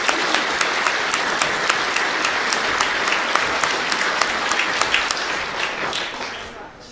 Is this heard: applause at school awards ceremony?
yes